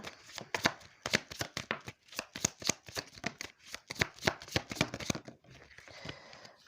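Tarot cards shuffled by hand in a quick, crisp riffle of many short slaps and flutters, close and steady for several seconds before easing into a softer rustle near the end.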